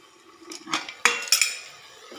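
Metal clinks and clatters as a lid is set over a pan of potatoes cooking in spices, a few sharp close knocks and rattles in quiet surroundings.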